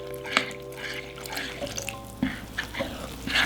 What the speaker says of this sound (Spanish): Ahora vamos a agregar 1 vaso de agua.